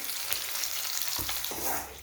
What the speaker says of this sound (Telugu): చిక్కుడుగాయ తాలింపు పోపు కూడా వేగింది